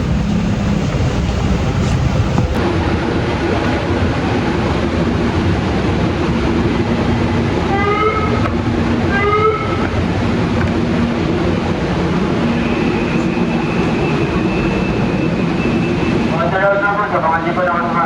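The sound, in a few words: big train passing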